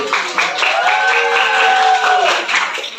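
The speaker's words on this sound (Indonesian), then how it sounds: "Tepuk tangan." Students in an Indonesian school gathering clap after a student council chair is approved: a short burst of group clapping mixed with a drawn-out cheering voice, close and fairly loud.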